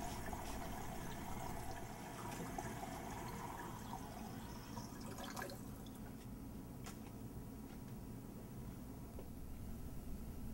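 Hands rinsed under clean running tap water at a comfortable temperature, a steady rush of flowing water with wet rubbing and splashing, fairly faint, with a few drips and sharper splashes partway through.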